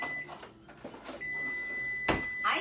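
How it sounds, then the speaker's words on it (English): A kitchen microwave oven beeps, one sharp tone ringing out loud and close after a quieter stretch with faint kitchen handling noises and a soft high whine in the background. "I hear you, microwave."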